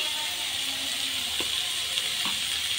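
Green chillies and onions sizzle in a pan while cooking Bombay chutney, a steady hissing frying noise with a couple of faint clinks, no talking.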